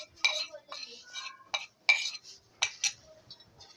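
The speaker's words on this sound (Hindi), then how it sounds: "अब हम इसके अंदर कोको पाउडर डालेंगे छन्नी में," Cocoa powder is sifted through a metal sieve for an oven-free chocolate cake, a series of light, close metallic taps and clinks in uneven bursts, with quiet gaps between them.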